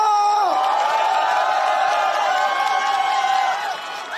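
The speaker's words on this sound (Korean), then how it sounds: "자, 다시 한번 뜨거운 함성과 박수를 함께 하겠습니다" Campaign rally crowd in Gongju, South Chungcheong, cheering with loud sustained shouting and chanting voices plus applause underneath, a dense roar that holds steady and dips slightly near the end.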